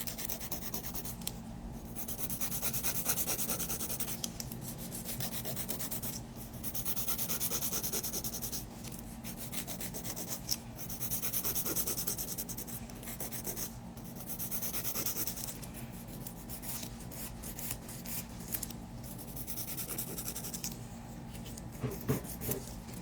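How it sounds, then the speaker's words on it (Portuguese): A hand nail file gently files the edge of a gel-polished nail, soft rhythmic rasping strokes in short bursts with brief pauses, close and quiet. "Eu venho novamente aqui com a minha lixa manual, tá? Vou lixar aqui a linha para ajustar o formato."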